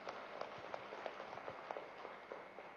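Faint, scattered clapping from an audience at a meditation gathering in Tirupati, irregular hand claps heard at a distance without talk.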